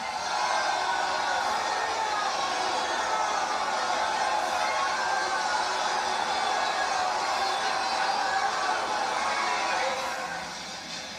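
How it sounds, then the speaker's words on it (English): A large crowd boos steadily at a Bernie Sanders rally, a dense unbroken roar that holds for about ten seconds before easing slightly. "The booing went on for over 20 seconds"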